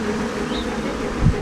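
A swarm of honey bees buzzes as a continuous low, dense drone, fairly close and steady throughout.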